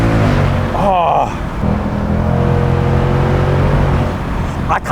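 A naturally aspirated Ford Mustang automatic revs and pulls hard into a corner, its engine a loud, continuous rumbling drone whose pitch shifts as it accelerates, with a brief whooshing change partway through and the roar staying up throughout.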